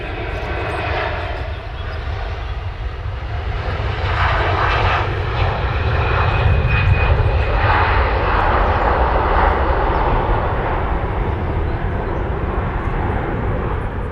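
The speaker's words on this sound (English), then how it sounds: "Nice departure there on Virgin." Virgin airliner departing Manchester Airport, a loud, steady jet engine roar that swells and holds throughout, broad and continuous with faint background voices beneath it.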